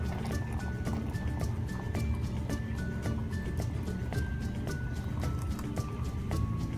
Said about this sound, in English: Now I pour to about 1 inch from the top.